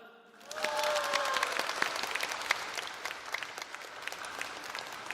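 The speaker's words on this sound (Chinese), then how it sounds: "让我们给车圈的顶级烘焙大师一些掌声" Loud, sustained applause from an audience at the MG4X electric SUV launch event, swelling in after a brief quiet start and continuing steadily as dense clapping.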